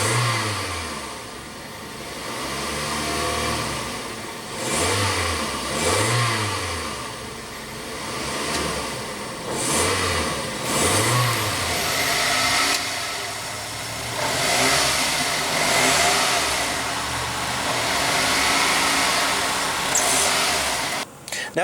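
A 1998 Toyota Corolla's 1.8-liter four-cylinder engine revs up several times from idle, each rising and falling whine close and loud, with a steady idle between the bursts.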